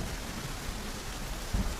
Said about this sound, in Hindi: बारिश हो रही है, बारिश हो रही है।